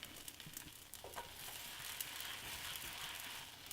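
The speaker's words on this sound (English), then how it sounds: "we're gonna take our sourdough bread and just go ahead and fry it up" Sourdough bread fries in oil in a cast iron pan, giving off a faint, steady hiss and crackle with a few soft pops. No one talks.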